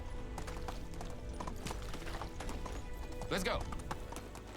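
Horse hooves clip-clop at a steady galloping rhythm in the medieval life-sim game Medieval Dynasty, close and continuous, with a short whinny near the end and someone talking over it.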